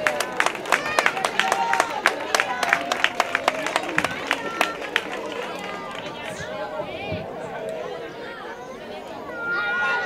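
Applause at an end-of-year school ceremony: dense, sharp clapping from a crowd, strongest at first and then thinning out into murmuring chatter and a few scattered claps.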